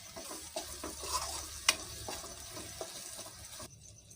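Ginger paste, coriander powder, salt, turmeric and green chillies being stirred into a fish curry in a pan, with soft scraping strokes over a low sizzle and one sharp clink of the spoon midway.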